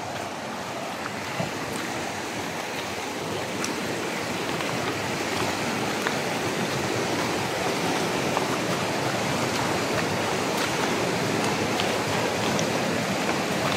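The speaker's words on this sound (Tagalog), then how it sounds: "Lakas ng tubig oh." Strong forest stream rushing in full spate, a steady dense roar of turbulent water over rocks that stays loud and constant throughout, with no voices.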